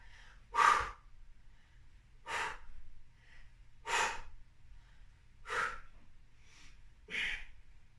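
Forceful breaths exhaled during single leg bridge hip lifts, five strong puffs at an even pace about every one and a half seconds, close and clear over a low hum.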